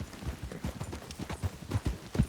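Horse hooves clip-clop at a steady walking rhythm in Red Dead Redemption 2, fairly soft and close, with regular paired hoofbeats throughout.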